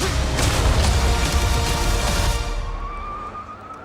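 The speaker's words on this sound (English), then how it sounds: "He really skids the truck to a stop" A truck skids to a stop in the Ant-Man and the Wasp movie trailer: a loud, rough roar of noise fades after a few seconds into a thin rising squeal.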